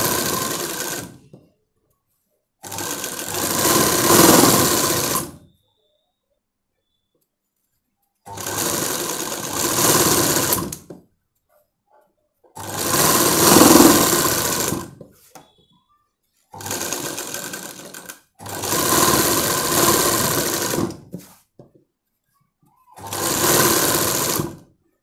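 Sewing machine stitching a lehenga, running in six separate bursts of several seconds each with silent pauses between, close and fairly loud with no talk.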